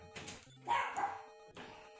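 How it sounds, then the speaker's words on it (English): A dog barks in a few separate bursts, fairly faint and somewhat distant, with quiet gaps between the barks. "Dog's barking."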